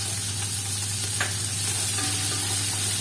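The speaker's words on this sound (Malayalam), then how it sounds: "ഇത് നന്നായിട്ടൊന്ന് വഴറ്റിയെടുക്കണം" Thinly sliced onion sizzles and is stirred in hot oil with green chillies and salt in a pan, a steady close frying hiss with a faint scrape or two, no talk.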